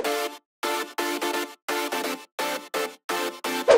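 Future house synth chords processed with distortion, OTT compression and a stereo shaper for width, repeated in a choppy rhythm of short bright stabs, each block split into quick pulses, loud and alone.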